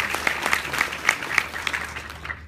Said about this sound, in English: this is a good round of applause